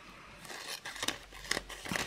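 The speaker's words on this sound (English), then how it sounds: "So I'm going to cut this piece of plastic open" Scissors snip through a piece of plastic packaging, a few quiet close crisp cuts with faint crinkling in between.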